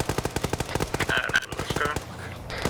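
Rapid gunfire in Xenonauts, a fast run of evenly spaced shots like an automatic weapon firing a burst, close and sharp, with brief game sounds mixed in.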